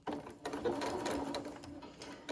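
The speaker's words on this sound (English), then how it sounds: "So let's stitch." A sewing machine stitches gathered, ruffled fabric onto the body of a Sagebrush top in one steady close-up run, humming evenly for about two seconds.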